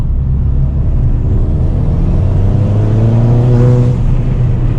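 Ford Fiesta ST200 with a Quaife mechanical limited-slip diff accelerating hard on a road, its engine note loud and close and rising steadily in pitch as the front wheels struggle for grip.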